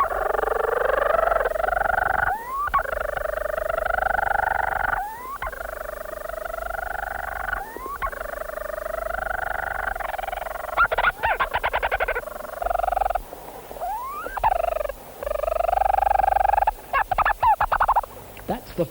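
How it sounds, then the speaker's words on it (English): A Leach's fork-tailed petrel calls from its underground burrow on St Kilda, giving a close, steady series of purring, chattering phrases with rising notes, repeated in a mechanical rhythm like a wind-up toy. "The sitting bird calls to its mate like an animated clockwork toy right under our feet."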